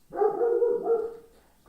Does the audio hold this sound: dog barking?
yes